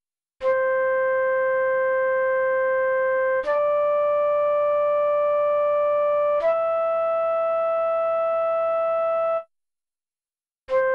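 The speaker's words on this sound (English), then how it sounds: "here's the sound of a flute playing." A flute plays three long, steady sustained notes one after another, each cleanly separated, clear and close, followed by a brief pause and the start of a fourth note.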